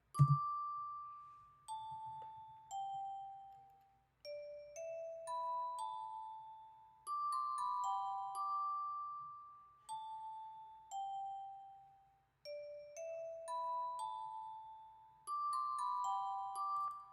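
A clean, bright bell sample for a beat, made in FL Studio, plays alone, notes ringing out in a repeating phrase with soft decays between them.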